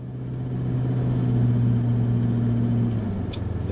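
Landcruiser 200 series driving on beach sand along existing ruts without intercooler fans, producing a steady droning engine hum with a low tonal rumble that eases off toward the end.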